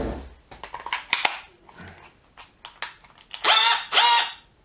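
A Bosch GSB 18V cordless drill being tested after a chuck, clutch and gearbox repair and making an odd noise: scattered clicks and clatter, then two short, loud whirring bursts near the end.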